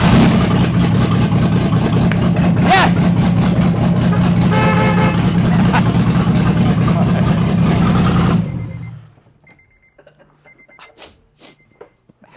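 A Honda J-series engine swapped into a CL9 TSX, running on old gas, roars loudly and steadily with revving and a brief horn toot, then cuts out abruptly, leaving near silence with faint clicks.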